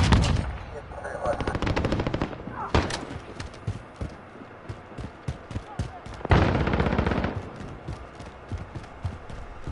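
Dense automatic gunfire rattles through a Call of Duty: Modern Warfare firefight, with rapid bursts and single shots overlapping almost continuously, some loud and near, others farther off, and sharp louder blasts standing out.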